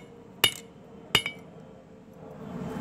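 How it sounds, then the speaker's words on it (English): A hammer strikes the red-hot end of a steel bar in a forge twice, each blow a sharp, ringing metallic clink about 0.7 seconds apart, close and clear against a quiet background. "Pick the wobbliest hammer that you had. It's my favorite one. Hit the end of it where it's red."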